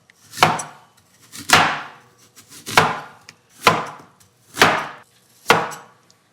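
Apples are sliced for an apple pie with six evenly spaced knife strokes that land firmly on a cutting board, each a crisp, close chop followed by a short fading tail.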